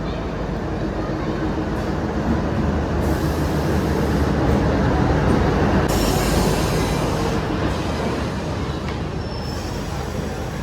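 A train at Beed railway station, loud continuous rolling rumble and clatter of wagons with some wheel squeal, sustained close by for the whole stretch.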